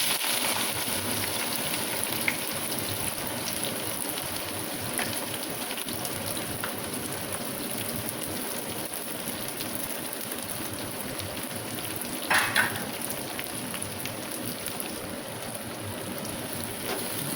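Chopped onions sizzle in smoking-hot mustard oil, a steady, close, even hiss with faint crackles throughout.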